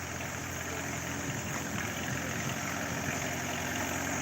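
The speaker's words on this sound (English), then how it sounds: "there's some John Deere running in the background" A John Deere tractor engine idles steadily in the background, a constant low rumble with mechanical hum and no voices over it.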